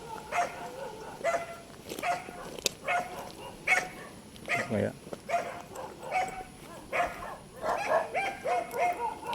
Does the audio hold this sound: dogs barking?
yes